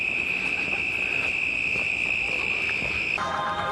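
Crickets or similar insects trill in a continuous high, steady chirr in Melbourne's Royal Botanic Garden, set over a constant outdoor murmur; the buzzing shifts slightly near the end.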